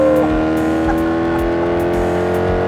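A Maserati GranTurismo engine revs hard and steadily up close, its sustained loud, harmonic-rich roar holding throughout with slight rises in pitch.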